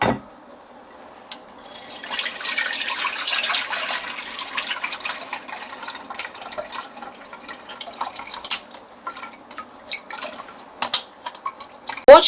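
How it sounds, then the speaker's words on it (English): Juice poured from a pot through a strainer gives a steady, soft liquid stream that runs for several seconds, then breaks into scattered drips and splashes toward the end. "now I'm going to transfer the juice from my pot over here with the help of my strainer right here"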